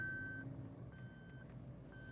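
Car seat belt warning chime inside a car: a steady repeating electronic beep tone, sounding in three short spans under a low cabin hum, fairly faint and without talk.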